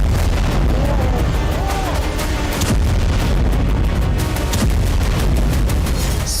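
Booming explosions at the Engels-2 Russian air base after a Ukrainian drone strike, heavy repeated blasts and pops over a constant loud roar, with a few distant thuds scattered through.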